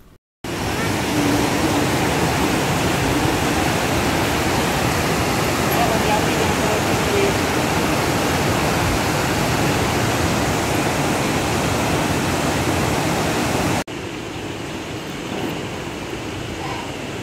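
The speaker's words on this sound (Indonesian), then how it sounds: "ini ada suara sungai, suara jangkrik" Continuous broad rushing of a river, steady and fairly loud, with a faint cricket chirp underneath; the level drops slightly near the end, at a hotel in Puncak.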